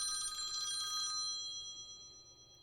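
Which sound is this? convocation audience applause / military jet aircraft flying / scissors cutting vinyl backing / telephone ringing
telephone ringing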